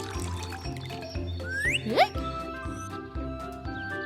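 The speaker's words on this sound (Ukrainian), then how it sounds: "Совиня наповнює басейн водою, щоб помити в ньому тук-тука." Cartoon water pours and splashes as a pool fills in a children's animation, with bright rising whistly swoops and a gurgling, bubbly sound over soft background music.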